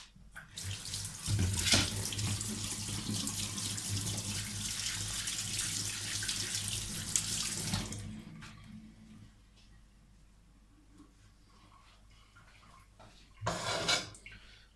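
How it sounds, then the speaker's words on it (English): A kitchen tap runs into the sink while hands are washed, a loud steady water flow that cuts off, followed by quiet and a short burst of running water near the end. "So now I need to wash my hands."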